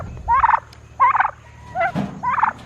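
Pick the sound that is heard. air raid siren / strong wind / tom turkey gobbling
tom turkey gobbling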